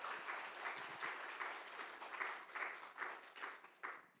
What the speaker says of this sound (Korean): 우리 한나회 어르신들을 다시 한번 박수로 격려하면 좋겠습니다